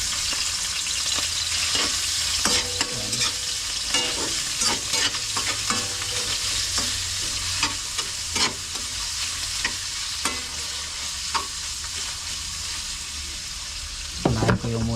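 Pork fat frying in a hot kawali, a constant crackling sizzle with frequent sharp pops and spatters, plus stirring scrapes and a clank near the end.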